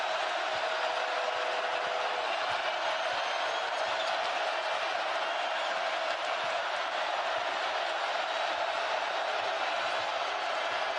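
A college basketball crowd roaring in the Marriott Center during a Texas Tech game, a dense continuous wall of cheering and noise at steady loudness throughout.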